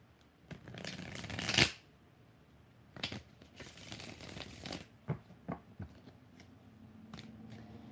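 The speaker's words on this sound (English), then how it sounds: "Last shuffle." Tarot cards are shuffled in a quick riffle, then tapped and squared with a few soft slaps and shuffles, close and fairly quiet.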